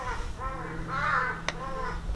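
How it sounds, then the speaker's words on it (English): Crows caw loudly and repeatedly nearby, a series of harsh, rasping calls overlapping one another above a low steady hum, with a brief sharp click partway through. "Goddamn birds."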